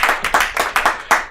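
Audience at a live comedy show claps in a brief burst of sharp, rhythmic claps, fairly loud and close, with no talking.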